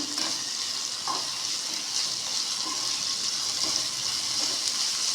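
Dry fish frying in hot oil in a home kitchen, a steady, dense sizzle with faint crackles and a light bubbling wash running evenly throughout, close and fairly loud, no voices.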